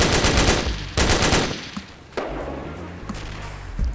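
A Breda Mod 30 light machine gun fires in a video game: loud, close bursts of rapid shots, each cutting off and restarting, with short pauses and a quieter gap between volleys.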